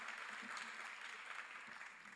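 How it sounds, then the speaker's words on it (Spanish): An audience applauds at a national literature award ceremony honoring a professor, a steady, moderately distant ripple of many hands clapping that carries through the whole moment. "Un fuerte aplauso para los tres amigos del galardonado profesor que han hablado"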